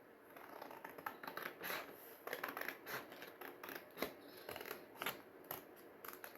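Scissors snip through two folded pieces of paper, a run of quick, crisp cuts in an irregular rhythm, close and fairly quiet, with no talk.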